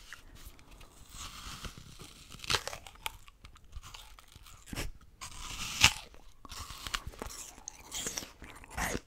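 Crisp bites into a fresh apple followed by crunchy chewing, close and intimate in a quiet ASMR setting, with several distinct bite bursts spread across the clip.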